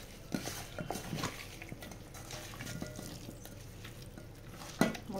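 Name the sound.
mixing chicken with spices and ginger-garlic paste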